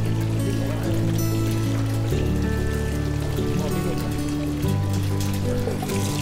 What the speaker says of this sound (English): wash it off like this from above down so that the water falls away from the hand